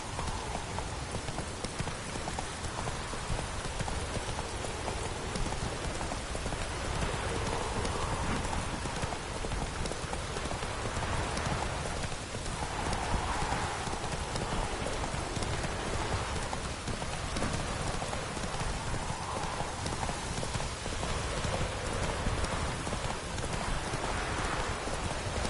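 Roach, a horse in The Witcher 3, trots steadily with rhythmic hoof clip-clops under a constant wash of rain, the hoofbeats close and continuous throughout.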